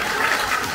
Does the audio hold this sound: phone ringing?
no